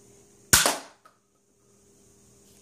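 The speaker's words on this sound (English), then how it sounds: "So, as you can see, a little pistol here." A small toy pistol fires one sharp, loud crack that fades fast. The shot stands alone, and after it come a faint click and near-silence.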